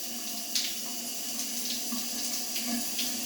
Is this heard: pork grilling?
no